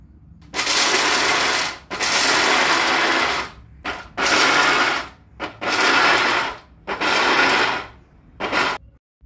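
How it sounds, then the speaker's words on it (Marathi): A mixer grinder pulses through peanuts for fasting laddoos, roaring in six loud bursts of about a second each, separated by short silent pauses, with no talk. "मिक्सर चालू बंद करत पल्स मोडवर आपल्याला हे शेंगदाणे वाटून घ्यायचे आहेत।"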